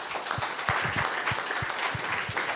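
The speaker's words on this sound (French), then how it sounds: "Je crois qu'on peut vous applaudir chaleureusement." An audience at a conference applauds panel speakers with warm, continuous clapping, a steady wash of many hands heard from within the room.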